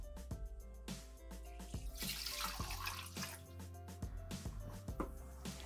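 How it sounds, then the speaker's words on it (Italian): Water is poured into a Thermomix jug, a continuous splashing trickle with dripping accents and small clinks, close and fairly quiet. "Iniziamo la ricetta mettendo all'interno del boccale l'acqua"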